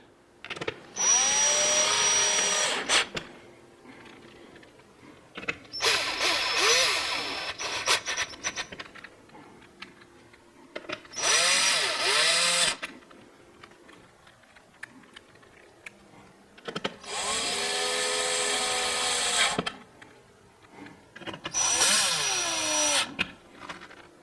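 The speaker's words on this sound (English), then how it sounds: "I'm going to go ahead and put the screws in first." A cordless power screwdriver drives screws back into a Vizio TV during reassembly after a T-Con board repair, giving five separate whirring bursts of a few seconds each with short pauses between, close and fairly loud.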